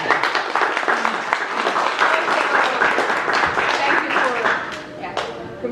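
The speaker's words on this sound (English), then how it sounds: "thank you all for giving an applause for that" Audience applause after a talk at an evening tech meetup, steady dense clapping lasting several seconds with murmured voices mixed in, fading slightly toward the end.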